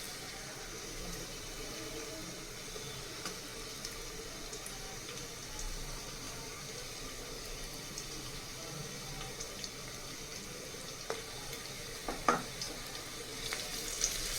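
Garlic-ginger paste and sliced green chillies fry in hot oil for a vegetable biryani, giving a steady low sizzle and crackle throughout, with a few sharper pops and spits near the end and no talking.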